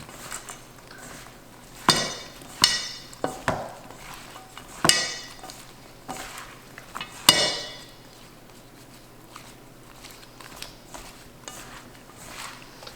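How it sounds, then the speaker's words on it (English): Sliced potatoes being tossed with Parmesan cheese in a bowl, giving a few sharp clinks and scrapes followed by a softer, steady rustle of stirring. "you just keep mixing until you're sure that you've probably got a pretty even distribution of everything"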